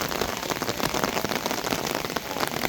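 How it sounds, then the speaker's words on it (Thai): Steady rain pours down outdoors in Thailand, a dense close hiss of drops hitting surfaces that stays even throughout, with no voices. "ฝน มา อีก แล้ว นะคุณผู้ชมนะฮะ"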